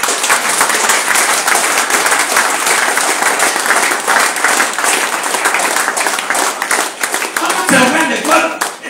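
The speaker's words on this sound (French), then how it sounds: "Acclamez pour mes enfants." Sustained applause from a congregation at a Sunday church worship service, dense and steady clapping filling the whole stretch, loud and close, with some voices mixed in.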